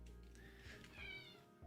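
A house cat gives a drawn-out, rising and falling meow, fairly close and moderately loud, with low room hum underneath.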